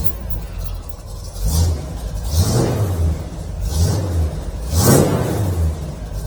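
A 1965 Chevrolet Impala convertible engine revs in a few rising bursts, close and fairly loud, each swell climbing and falling back to idle with no one talking.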